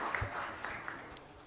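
Brief burst of audience applause at a French-language quiz competition, a steady wash of many hands clapping at moderate level with a few sharper claps poking out.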